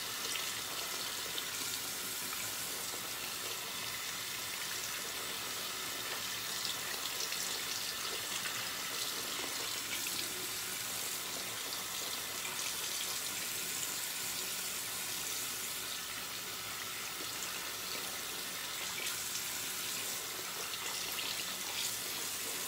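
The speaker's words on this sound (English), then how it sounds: "I'm going to add a lot of water to it." A badger shaving brush swirling water into shaving soap, giving a continuous soft, wet, crackling lather hiss held at an even low level throughout, with no talking.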